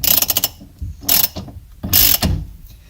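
Close, crisp ratchet clicking while tightening the 24 mm steering wheel nut on a Porsche 944, three short rapid bursts of pawl ticks separated by brief pauses.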